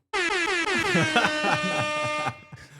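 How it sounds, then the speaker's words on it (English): A loud, sustained air horn blast with a descending pitch, lasting about two seconds before cutting off, followed by a faint trailing sound. "Oh, it was supposed to be the air horn."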